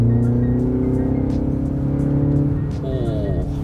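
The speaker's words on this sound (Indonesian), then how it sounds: "Oh, ini artificial sound-nya semakin kedengeran." Steady synthetic engine drone from a MINI Countryman S in sport mode hums loudly inside the moving car, a smooth sporty tone holding pitch with a brief rising whine near the end.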